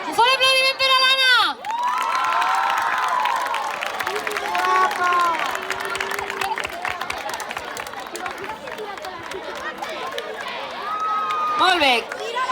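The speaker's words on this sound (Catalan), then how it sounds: "Un fort aplaudiment per a l'Anna!" A carnival prize-giving crowd cheers, claps and shouts loudly, with children's voices prominent, a dense, continuous roar that swells at the start and again near the end, while a voice speaks over it.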